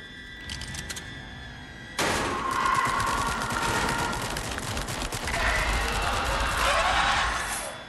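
Gunfire from a player's weapon in the VR rail shooter Switchback VR opens with faint shots. Then a loud, dense stretch of rapid fire begins and runs for about six seconds under a layer of game music and effects.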